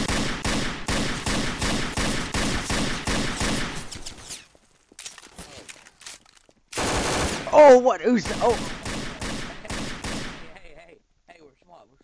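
Rapid bursts of automatic gunfire in Garry's Mod during a purge-night roleplay, loud and close, stopping abruptly, then resuming in short volleys with a brief surprised voice exclamation over the shots.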